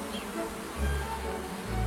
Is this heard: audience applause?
no